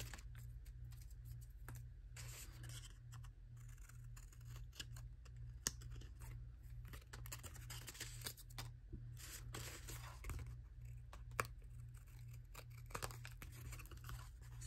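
Scissors trim paper for Halloween craft pockets and tags with soft, quiet snips and crisp clicks scattered over a faint steady hum, close by and low in level.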